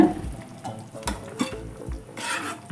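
A spoon stirs okra curry, made without tamarind, in a frying pan: scraping strokes over a soft bubbling sizzle, with a few distinct clinks against the pan.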